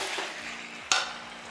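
Aloo matar paneer masala with garam masala frying in a pan, a steady soft sizzle throughout with one brief louder clatter of a spoon or utensil midway, no talking.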